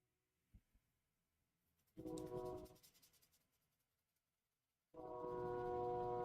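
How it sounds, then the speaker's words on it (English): A train goes through near an indoor room, the passes arriving as two loud, sustained bursts of rumbling and squealing wheel noise with a quiet gap between them and a few faint knocks before. "That train's still going through."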